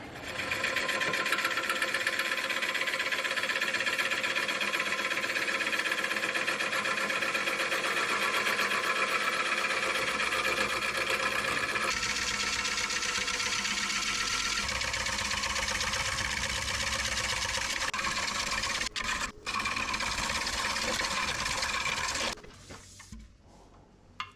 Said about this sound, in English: I think it's time to try and put an edge on my new gouge.